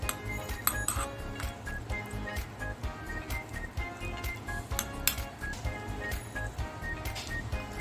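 A spoon clinks and scrapes against a bowl in a steady rhythm, close and fairly quiet, mixing sweet corn chaat with repeated light metallic taps.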